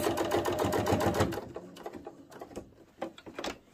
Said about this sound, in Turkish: Bu makineden olan arkadaşlar şurada daha yavaş dikiş özelliği var. O şekilde de dikebilirsiniz.